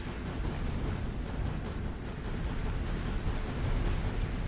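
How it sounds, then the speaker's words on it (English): Explosion in the RTS video game Art of War 3, a dense, sustained low rumble with crackling debris noise that stays loud throughout. "That was a devastating explosion."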